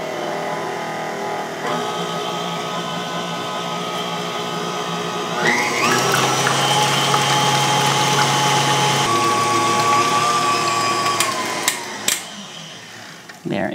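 An electric mixer with a whip beater head stirs a pumpkin mixture for keto pumpkin cranberry bread pudding, a steady motor whir that steps up louder partway through and runs continuously, close by, before cutting off near the end.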